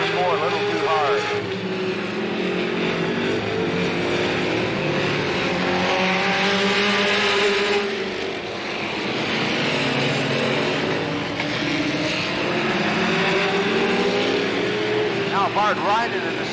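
Late model race cars roaring around Slinger Speedway, a steady loud engine drone with cars swelling past and fading, under continuous commentary from an announcer.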